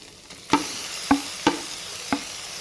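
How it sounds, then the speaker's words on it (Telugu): Chopped tomatoes added to onions frying in a pan for palak paneer curry, giving a steady sizzle with four sharp stirring knocks or drops spaced across it, close and alone. "ఇప్పుడు ఇందులోకి 2 టమాటాలు కట్ చేసి పెట్టుకున్న 2 టమాటాలు అయితే యాడ్ చేస్తున్నాను"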